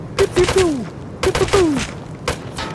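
Gunfire from a weapon loaded with high-velocity ammo in the survival game Rust: three separate bursts of sharp, loud shots spaced about a second apart, each trailing into a brief ringing tail.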